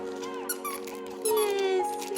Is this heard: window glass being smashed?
no